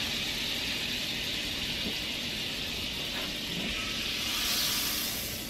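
Butter sizzling in a hot pan while chicken breast is being cooked, a steady soft hiss running throughout with a faint swell near the end.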